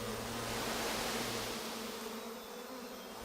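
Wings of a giant honey bee colony buzz together as a moving carpet, a thick, continuous insect drone that stays loud and close without a break.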